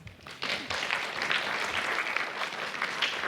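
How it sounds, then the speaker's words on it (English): Conference audience at a tourism and travel research event applauding journal editors, a dense wash of clapping that swells in suddenly and holds steady at moderate loudness throughout. "So let us give them the round of applause."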